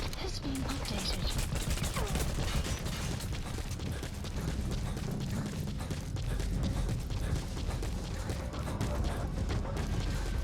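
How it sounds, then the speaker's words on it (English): Mortar fire in the video game Metal Gear Solid V: The Phantom Pain, a rapid series of sharp blasts and clatter running steadily throughout, fairly faint. "They are using mortars."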